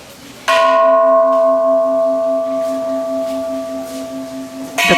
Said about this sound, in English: The lined up temple bells,